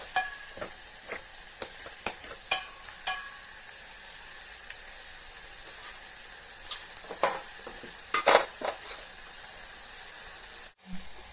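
Green chillies, tomato pieces and curry leaves fry in a pan with a steady sizzle, broken by scattered clicks and scrapes of a spoon stirring, a louder flurry of stirring near the end; no talking.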